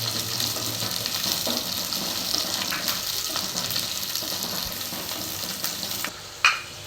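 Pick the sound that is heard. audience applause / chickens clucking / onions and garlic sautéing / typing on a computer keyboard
onions and garlic sautéing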